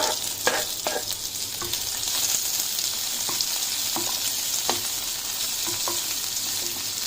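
Onions, garlic and chili fry in a pan for an Indian pumpkin stew, giving a steady broadband sizzle throughout with scattered sharp pops and clinks of stirring, close and fairly loud.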